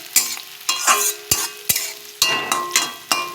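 Onions frying in a pan for a home-cooked Bengali lunch, with a steady sizzle broken by about eight sharp scraping strokes of a spoon stirring them at an uneven rhythm, close and clear with no talking.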